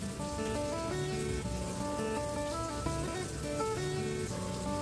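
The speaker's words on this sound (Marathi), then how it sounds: "जोपर्यंत हे फिश फ्राय होतात" Fish pieces fry in hot oil in a home kitchen, a dense continuous crackle like rain on a surface heard under steady background music.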